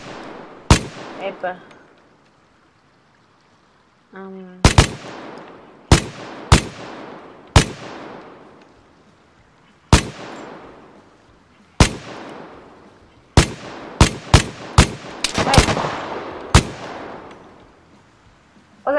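Repeated sharp gunshots from a first-person shooter game, Vigor, fired singly and in quick bursts with loud reports and echoing tails, separated by pauses; someone speaks briefly between shots.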